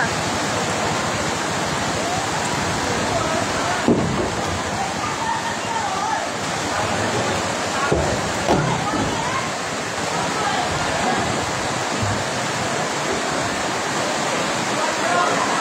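Flood water rushes downhill in heavy rain, a continuous loud roaring wash with a couple of brief knocks, while people talk faintly beneath the noise.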